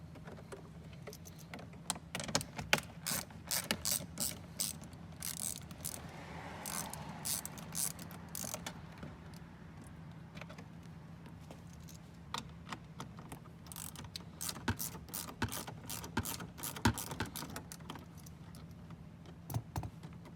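A ratchet clicks quietly in quick bursts while backing out a 10mm bolt and Phillips screws from a lower interior trim panel on a 2016-or-later Toyota Tacoma, soft rhythmic clicking against a faint background hum.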